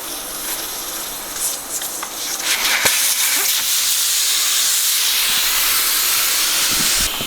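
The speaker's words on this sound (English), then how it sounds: "first thing you gotta do when dismounting tires, pull the Schrader valve" Air hisses steadily out of a tire with its Schrader valve pulled during tire dismounting, a loud, close, continuous rushing hiss that builds and holds.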